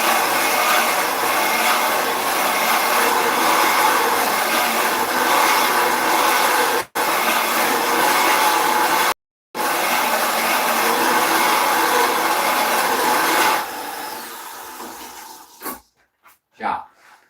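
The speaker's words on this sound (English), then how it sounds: "I'm just going to resharpen this actually" A bench grinder sharpens a woodturning bowl gouge with a loud, steady rasping grind that breaks off briefly twice, then fades into a few scattered taps and scrapes at the end.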